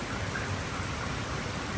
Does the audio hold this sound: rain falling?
yes